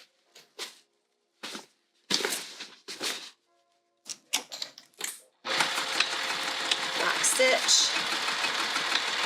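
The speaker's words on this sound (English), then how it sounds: "I lock stitched here, I lock stitch in the middle, and I lock stitch at the end." A person talks in short bursts, then a sewing machine lock stitching a bag seam runs steadily for several seconds, a continuous close mechanical whir to the end.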